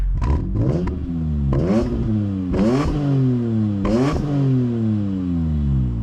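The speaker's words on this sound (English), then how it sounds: "Before doing that, a quick exhaust check." A BMW E46 M3 with a 6-speed manual and a modified exhaust is revved hard four times in close succession, each blip rising sharply and falling back to a rough, loud idle, heard up close.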